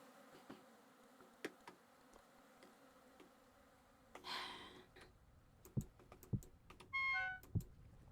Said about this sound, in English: And you hear the bees still beep beep.